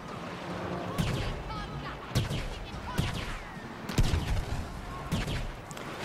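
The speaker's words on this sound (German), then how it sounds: "Ey, ein Schuss!" Gunfire in the Star Wars Battlefront video game: bursts of shots and heavier booms recur every second or two over a steady battle din at moderate loudness.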